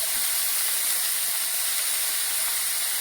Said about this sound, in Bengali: এখন আমি সব মিশা একসাথে ভাজবো।